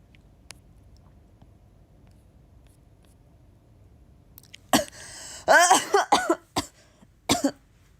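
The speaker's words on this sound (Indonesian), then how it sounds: "Aku lagi batuk." A dry, scratchy cough from an itchy throat, several sharp close bursts in quick succession after a quiet stretch, with a brief throat-clearing sound among them.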